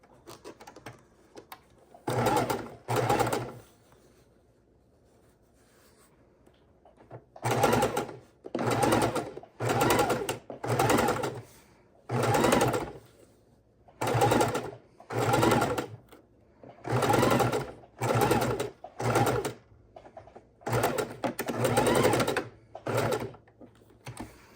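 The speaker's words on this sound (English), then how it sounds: "this sewing machine doesn't like to go slow" A sewing machine stitches in short bursts of rapid mechanical whirring, starting and stopping repeatedly with brief pauses between runs, close and clear with no talk.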